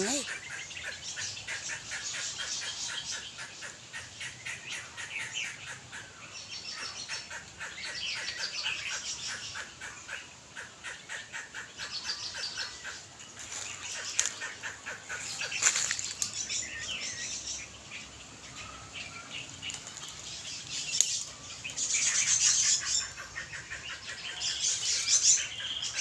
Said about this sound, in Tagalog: Para silang nag-aaway yata yung dalawang ibon